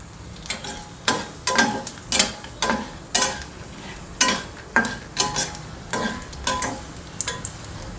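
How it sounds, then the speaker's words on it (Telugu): Coriander seeds frying in a pan and being stirred, heard as a loud, rhythmic series of sharp scraping strokes about every half second over a soft, steady sizzle, close up and without voices. "ధనియాలు వేగి ఫ్లేవర్ మంచి అరోమా వస్తుందండి."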